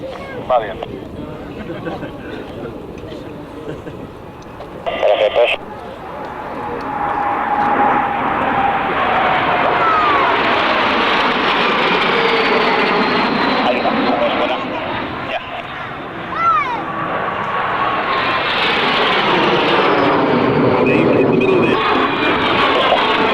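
Jet aircraft in a six-ship formation crossing at the 1995 Fairford airshow, a loud, sustained roar that swells and sweeps in pitch as the jets pass, with crowd babble faintly beneath.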